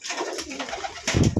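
Pigeons kept for sale coo repeatedly, soft throaty calls rising and falling in a steady rhythm close by, with fluttering and rustling from the birds and a louder burst of movement near the end.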